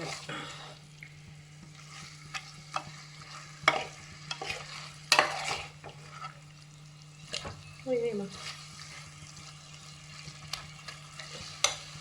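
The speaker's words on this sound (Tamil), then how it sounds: "வதங்கிடும் நல்லா பழுத்த தக்காளி" Ripe tomatoes sautéing in a pan for mutton biryani, with repeated clattering stirs and scrapes over a low steady hum, the sizzle faint beneath the utensil knocks.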